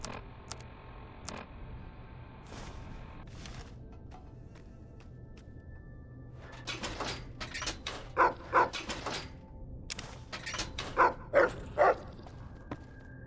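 A dog barks in a short series of sharp yaps in the Fallout: New Vegas video game, following quieter ticking and clicking game sounds.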